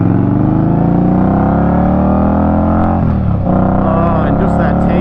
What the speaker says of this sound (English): that takeoff when the engine revs and your exhaust is screaming